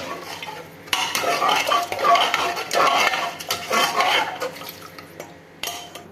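Steady scraping and clinking of a spoon stirring soaked varagu (kodo millet) rice and water in a metal pot, continuous and close, with a brief pause near the end.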